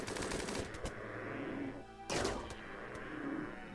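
Gunfire from the RimWorld Alpha 17 video game fills the scene during a shooting contest against thumbos. Rapid bursts of shots crack in quick succession, pause briefly, then burst loudly again.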